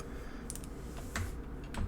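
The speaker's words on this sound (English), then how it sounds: "I'm interested to see what Riaz is typing here" Keys typed on a computer keyboard, a few quick soft clicks in small bursts, faint and close, over a steady low background hum with no talk.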